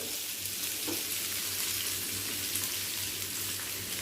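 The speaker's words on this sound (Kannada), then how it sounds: "ಒಂದು ಮೂರು ನೀರುಳ್ಳಿ ಕಟ್ ಮಾಡಿ ಅದನ್ನು ಹಾಕ್ತಾಯಿದ್ದೀನಿ ಮಿಕ್ಸ್ ಮಾಡ್ಕೊಳ್ಳ" Three chopped onions fry in a pan for masala dosa filling, giving off a steady close sizzle and hiss, with a low constant hum running beneath.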